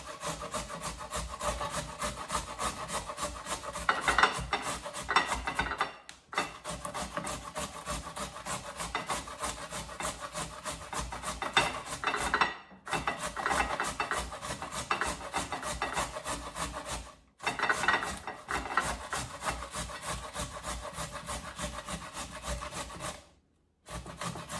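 A knife slices vegetables for chow mein on a cutting board in a fast, continuous run of rhythmic chopping strokes, close and steady, broken by three or four brief pauses.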